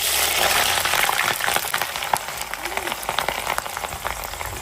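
Onion sizzling and frying in a pan as the base for a paneer gravy, a steady crackling hiss with a voice talking over it.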